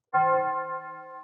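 A single bell hit from the original 1998 Resident Evil 2 soundtrack rings out sharply, then sustains with clear ringing overtones that slowly decay, heard alone.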